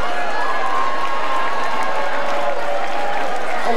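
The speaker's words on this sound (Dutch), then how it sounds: "Een applaus." Sustained applause and cheering from a crowd at a Dutch corso parade award ceremony, dense and steady clapping that fills the whole span without a break.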